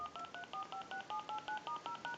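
A payphone's redial button sends a rapid, evenly paced string of DTMF tones, about a dozen short, clean beeps in quick succession, heard close and on their own.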